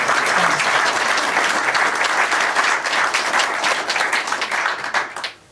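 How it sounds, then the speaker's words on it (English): Dense applause from a conference audience fills the room at a steady, loud level, thinning and fading toward the end. "let's give it a round of applause"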